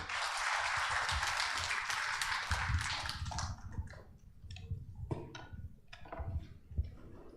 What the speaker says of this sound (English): With a round of applause, let's all welcome Dr. Brian John Gonzaga.